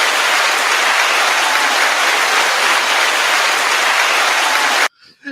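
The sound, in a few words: applause for podcast co-host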